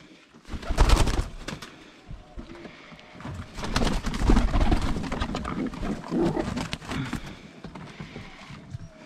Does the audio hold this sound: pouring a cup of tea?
no